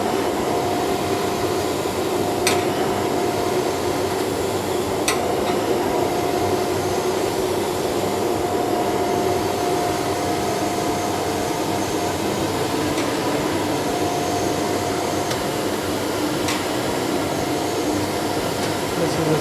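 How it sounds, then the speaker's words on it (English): A 1.5 HP blower motor runs with its suction switched on, giving a loud, steady close whine and whoosh that holds constant throughout with a few faint clicks. "I will just operate the motor here. This is the motor, and I will also switch on the suction."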